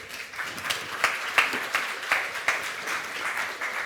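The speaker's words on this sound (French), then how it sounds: "Il faut les applaudir." An audience at a corporate event applauds as speakers take the stage, with moderate, uneven clapping and a few sharper individual claps standing out over roughly four seconds.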